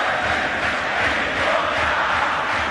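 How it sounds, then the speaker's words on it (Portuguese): Atlético-MG football crowd at the Mineirão stadium during a 2008 match against Vasco, a dense, steady roar of thousands of voices chanting together, broad and continuous throughout. "E a torcida do Atlético canta o hino agora no Mineirão"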